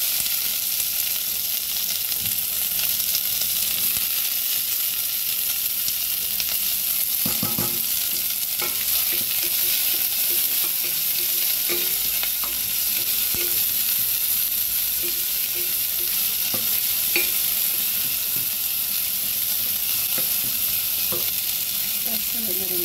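Chopped onions sauté in a pan for ginataang kalabasa with eggplant and alugbati, giving a steady close sizzle broken by occasional scraping stirs of a utensil.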